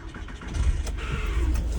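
A car engine cranks with a slightly noisy starter bendix and catches, settling into a steady idle with a low rumble, fairly close.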